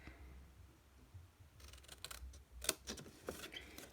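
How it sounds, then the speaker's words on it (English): Scissors snip through card stock while a chocolate bar gift box is being made, a few short crisp cuts and small clicks close by after a quiet start, with no talking. "So just a little snip just here"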